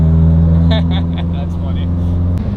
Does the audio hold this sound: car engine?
yes